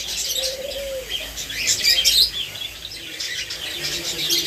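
Indian ringneck parakeets kept for sale in a bird market chirp and squawk in quick bursts, close and fairly loud, with a short whistle-like call standing out early on.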